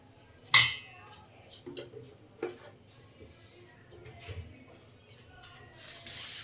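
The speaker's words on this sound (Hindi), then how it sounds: "तो अब हमने इसको अच्छे से इस तरह मिक्स कर लेना पहले" Homemade mixed pickle being stirred with a spoon, giving soft scrapes and clinks of metal against the dish. One sharp clink comes early, followed by quieter intermittent stirring, with a brief voice in the background.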